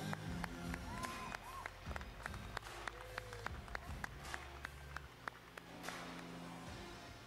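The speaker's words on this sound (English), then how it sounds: "His clapping is so loud and you can't hear like anybody." Audience clapping at a live mobile-gaming stage event, loud sharp claps cutting through a busy hall with a crowd murmuring and music underneath, steady rhythm throughout.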